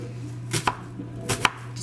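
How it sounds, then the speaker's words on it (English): A knife chopping through an onion on a board: two distinct, close cutting thuds about three quarters of a second apart over a quiet steady hum, no speech. "I'm gonna chop it up like so"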